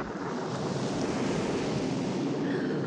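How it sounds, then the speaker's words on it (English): A huge ocean wave washes against a shipwreck with a continuous, loud roar of surf and rushing water. Wind noise runs steadily underneath, and no talk is heard. "a huge wave washed against the wreck"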